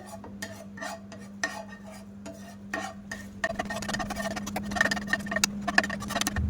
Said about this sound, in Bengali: চিনিটা আস্তে আস্তে গলে যাচ্ছে, চিনিটা আস্তে আস্তে গলে গেছে, আর চিনিটা কিন্তু আস্তে আস্তে ক্যারামেল হয়ে যাচ্ছে